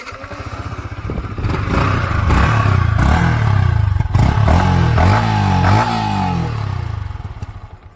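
A Yamaha R15 V4 motorcycle engine runs loud and close for several seconds, idling then briefly revving with rising and falling pitch, with some mechanical clatter and no voices.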